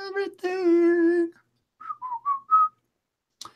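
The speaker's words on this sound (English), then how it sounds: "Don't whistle it." A person whistles a song close up, a steady held melody followed by a few short, higher separate notes, then silence.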